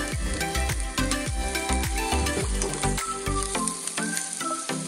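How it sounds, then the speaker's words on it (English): Chopped onions sizzle in a hot pan, a dense steady frying crackle close by, while repeated knocks and scrapes of stirring or cutting sound through it with no talking. "Now we're gonna stir the onions and wait till they're clear"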